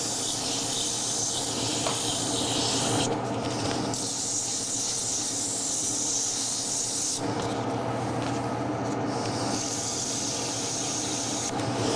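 Sandpaper rubs against the edges of a spinning wooden piece on a woodturning lathe, making a continuous close rasping hiss over the machine's steady hum, with brief lighter moments where the pressure eases.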